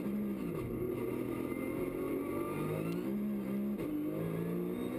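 A Porsche 911 GT3 race car leaving the pit lane at Spa during a 50-minute Carrera Cup race, engine note rising in pitch through the gears, with two clear upshift drops as it pulls away.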